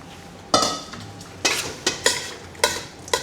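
Zucchini or marrow being stirred with a utensil in a stir-fry pan of chicken, giving about six sharp scraping strokes over a steady low sizzle, close and fairly loud with no talking.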